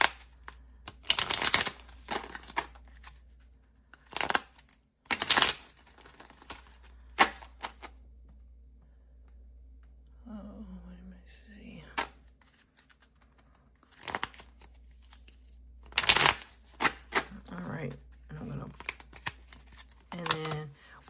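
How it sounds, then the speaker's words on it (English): Quick papery riffles and snaps of a card deck being shuffled, several bursts spread out, close by, with brief talk in between. "I'm gonna do another shuffle"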